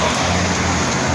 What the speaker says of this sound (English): So it's actually raining out here.